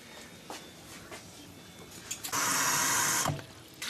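Water from a tap runs hard for about a second while filling a cup for Mexican homestyle rice in a home kitchen, a loud rushing burst framed by faint clinks and handling noise.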